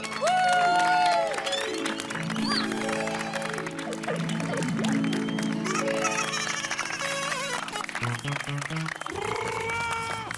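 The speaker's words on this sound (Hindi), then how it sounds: "हमारे आदरणीय चाचा जी के लिए एक बार जोरदार तालियां बजाइए।" Audience applause for the revered uncle at a children's day gathering, heard as a steady spread of clapping blended with music and crowd noise throughout.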